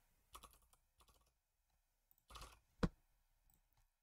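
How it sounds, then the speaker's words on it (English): Bursts of keystrokes clatter on a computer keyboard in short separated clusters, quiet and close, with pauses between each run of taps. "if I type in some stuff here."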